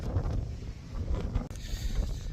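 Heavy gusts at Whitby Abbey buffet the microphone, producing a continuous low rumbling roar with a sharp brief dropout midway.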